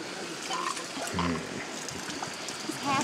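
An elephant on a jungle walk draws up drinking water with its trunk, giving a brief wet slurping gurgle over steady outdoor background noise.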